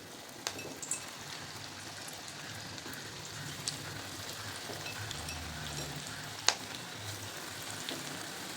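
Corn pakodas (maize bhaji) fry in hot oil with a soft, continuous sizzle and crackle, like light rain. Occasional pops and one sharper spatter rise above the steady bubbling. No one talks.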